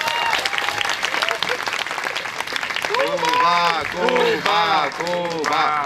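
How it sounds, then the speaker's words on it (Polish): Applause and cheering from an audience at a name-day celebration event for Jan Kochanowski, dense and steady throughout, with voices and chanting rising over it in the second half. "Brawa!"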